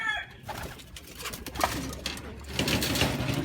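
Racing pigeons coo in soft, repeated low calls at close range, with some shuffling and fluttering noise around them.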